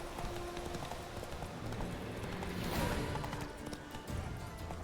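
Roach, a horse in The Witcher 3 video game, gallops with a steady, rapid clip-clop of hooves that runs throughout and swells slightly midway.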